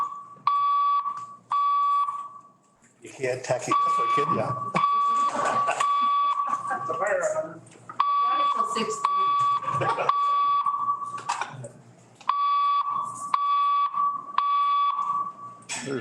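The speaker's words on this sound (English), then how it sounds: "Their alarm goes off." Building alarm sounding during a town council meeting, loud repeated bursts of high electronic beeping in short rhythmic groups with brief pauses, while people talk and murmur between and under the beeps.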